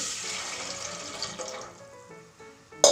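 Water pours and splashes steadily into a pot, then fades. A brief clatter comes at the end.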